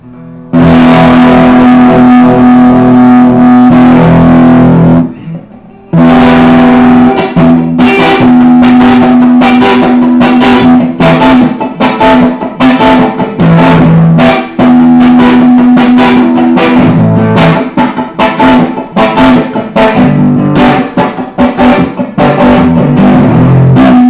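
Loud electric guitar chords through an overdriven Hardluck Kings Outlaw tube amp ring out continuously, with a brief pause near the start before heavy strummed playing resumes.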